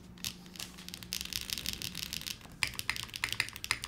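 Typing on a T9 Retro keyboard with a 1.2 mm PCB and flex cuts, soft shallow keystrokes in a quick, steady run that grows louder and sharper toward the end, heard alone.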